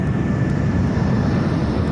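Steady roar of an airliner cruising in flight near Heathrow after a cockpit windscreen blowout, a loud broadband engine and wind drone, constant and close, without speech.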